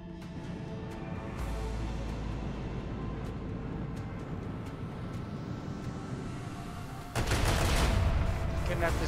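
Enemy gunfire from the Warhammer 40K Rogue Trader video game crackles through a dense, steady battle soundscape, with a louder burst of shots near the end.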